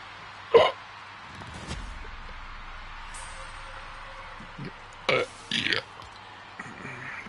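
A person burps several times: one sharp belch, then a quieter gap with faint background noise, and later two more burps close together, each loud and near with no talking.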